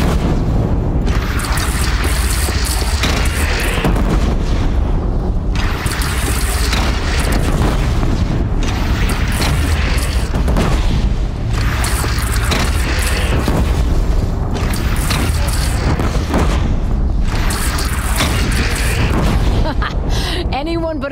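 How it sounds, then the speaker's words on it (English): Cannon fire from a bandit clan's single cannon in Horizon Zero Dawn booms over and over through a loud, dense battle din, with voices mixed into the constant chaos. "They only have one cannon!"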